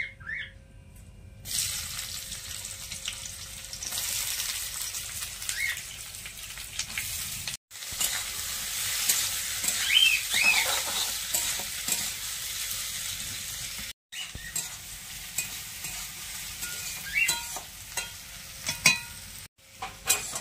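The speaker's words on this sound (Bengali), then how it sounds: "এবারে দিয়ে দেবো কুচিয়ে রাখা পেঁয়াজ" Chopped onions hit hot oil with dried red chillies, bay leaves and cinnamon for a chicken and potato curry, crackling in a continuous close sizzle broken by scraping spoon strokes and a few brief silent gaps.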